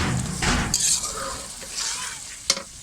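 Eggs cooking in a pan give a close steady sizzle with stirring scrapes and a sharp clink of a utensil on the pan near the end.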